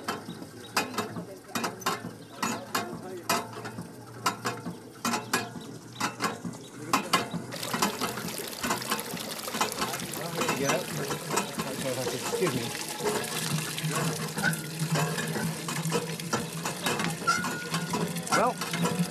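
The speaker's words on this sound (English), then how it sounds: "A 90-foot well has been sunk and pure water pumped up by the simplest technology." A simple hand pump draws water up from a 90-foot village well in Africa. It gives off steady mechanical clanking and ratcheting with a splash of water, running on throughout with sharper clicks early on.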